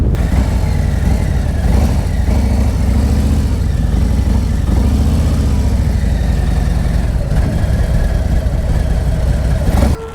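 Close, steady motorcycle engine noise during a slow U-turn ridden in the friction zone with a little rear brake, a continuous mid-pitched idle-like drone with gentle rises and falls throughout and no talking.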